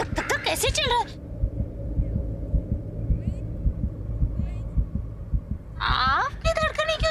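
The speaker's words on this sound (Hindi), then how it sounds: "ये आपका दिल है? रेलगाड़ी से धक धक धक धक धक धक धक कैसे चल रहा है?" A fast heartbeat sound effect in a Hindi TV serial drama scene: low, steady thumping pulses running throughout, with voices talking at the start and end.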